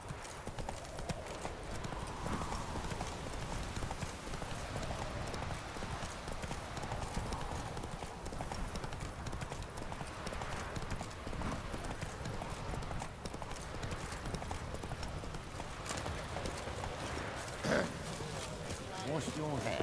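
A horse gallops in The Witcher 3 video game, rapid steady clip-clop hoofbeats continuing throughout at moderate level under game ambience, with a brief whinny near the end.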